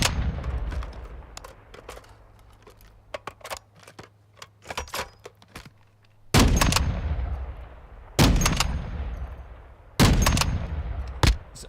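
A .50 caliber gun in Call of Duty Modern Warfare 2 DMZ, sharp loud shots fired singly and in short bursts, some heavy booming reports with ringing decay, scattered irregularly.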